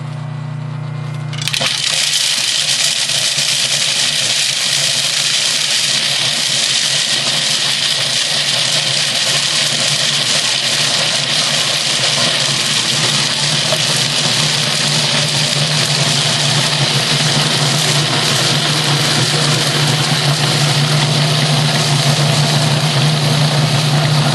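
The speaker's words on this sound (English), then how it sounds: "we're going to turn on our machine and we're going to stream in the peanut butter chips so you know from experience that this gets noisy" A kitchen machine grinds peanut butter chips, starting up after a brief quiet moment and then running as a loud, steady, close whirring drone that continues without speech.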